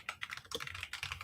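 Computer keyboard typing in a front office, a rapid, steady patter of key clicks, close and continuous, with no voices over it.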